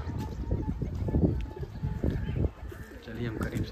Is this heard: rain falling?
no